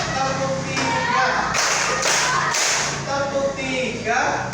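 Children clapping hands together in a classroom, a burst of dense, sharp claps in near unison mixed with a teacher's voice calling out and children's voices.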